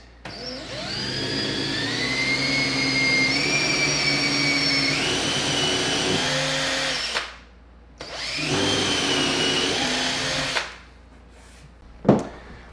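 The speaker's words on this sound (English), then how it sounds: "Make sure that when you drill, it goes perfectly parallel through this to the other side." A power drill bores through a kitchen upper cabinet, loud and close, its motor whining up in pitch over a long first run, pausing briefly, then drilling again before stopping with a sharp final click.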